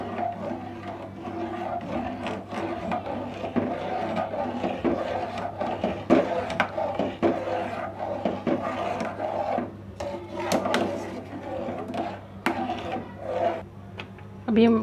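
A spoon is stirred steadily through custard in a pot, making soft scraping and clinking strokes close by over a low constant hum, with occasional faint voice.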